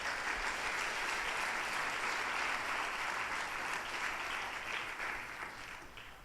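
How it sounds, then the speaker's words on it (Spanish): A church congregation claps hands together, a full, steady wash of applause that holds evenly before easing off slightly toward the end. "¿Quieren darle palmas al Señor, hermanitos?"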